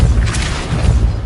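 Depulso, a force-pushing spell cast in Hogwarts Legacy: a single short, heavy boom with a low rumbling thump, loud and close.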